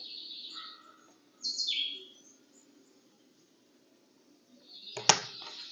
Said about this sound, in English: birds are a touch loud